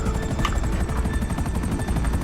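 A British Army Apache attack helicopter in GTA 5 spins up for takeoff, its rotor giving a steady, fast, rhythmic thudding over a dense engine rumble, loud and close.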